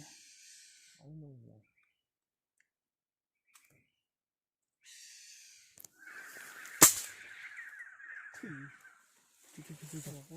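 Harsh crow caws ring out a few times, mixed with people talking nearby and one sharp click partway through.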